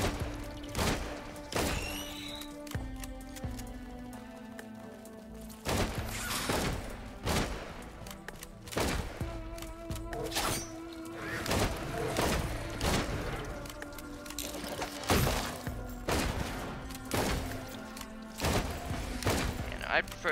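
Bandit's guns firing at beetles in Risk of Rain 2, played as a shotgun and long-range weapon: loud, heavy thudding shots spaced a second or two apart over a low game drone.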